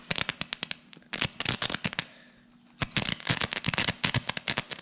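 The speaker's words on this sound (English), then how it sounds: "maybe the cable's not dead shorted and it's just intermittently arcing, what you'll notice is it becomes a bit of an arc welder" Shorted electrical cable arcing intermittently and burning, giving rapid loud cracking and popping bursts in dense irregular volleys, with a brief lull before the crackling resumes.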